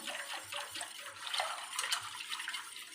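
Cold water pours steadily into a cooking pot, a close continuous splashing hiss with small gurgling fluctuations and no voices.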